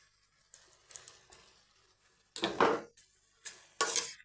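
Bottle gourd curry being stirred in a pan, a series of irregular scraping and clinking strokes of a utensil against metal, some quick and light, others longer and louder, with quiet pauses between.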